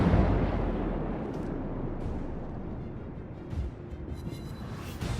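Heavy naval guns firing in World of Warships: a loud booming blast that rumbles and slowly decays, followed by further distant thuds and softer rumbling from battleship guns.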